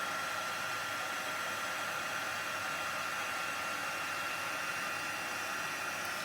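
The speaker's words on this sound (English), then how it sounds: "I'm just going to grab my heat tool and just melt that powder" Heat tool melting embossing powder during a Christmas card craft session, blowing as a steady, close, loud whooshing hiss that continues without a break and without talk.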